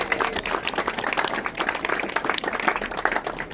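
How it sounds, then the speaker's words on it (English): Audience applause at a small business awards reception in Gloucester, a steady dense patter of many hands clapping throughout, fairly close and even, with no talk over it. "Let's give them a round of applause, please."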